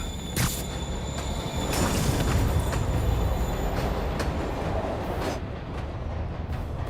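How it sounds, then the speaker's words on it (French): A train pulls away from a station platform in a Spider-Man video game, a steady broad rumble of rolling rail cars with brief metallic bangs, loud and continuous with no talking. "Le train démarre."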